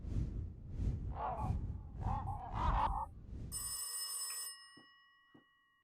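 A telephone in a video game gives one bright electronic bell ring that cuts off abruptly, following a stretch of talking and trailed by a couple of faint clicks.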